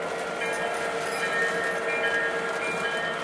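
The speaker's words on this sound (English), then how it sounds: "If you listen carefully, you can hear actually both of the bells going." Bells ringing on two model train engines run together under DCS Commander control, a steady continuous metallic ringing over running noise, close and moderately loud with no talk.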